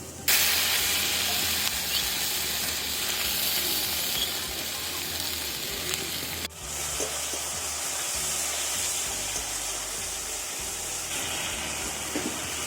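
Whisked sour yogurt going into a hot spice masala for pomfret curry, giving a steady loud hiss and sizzle throughout, with a brief dip and fresh burst of sizzle midway.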